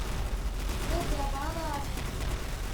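An M249 machine gun in the Roblox game Arsenal fires steadily in a dense, continuous rattle, loud and close, while a voice talks over it.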